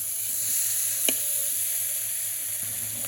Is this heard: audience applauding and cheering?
no